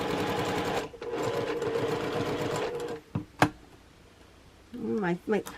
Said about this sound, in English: I'm going to sew 1/4 of an inch